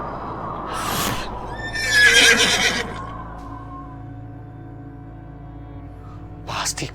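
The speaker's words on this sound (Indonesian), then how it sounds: "Pasti kuda itu sudah membunuh si Jupri." A horse lets out a loud, shaky whinny, followed by quieter snorting and movement, with another short sharp sound at the very end.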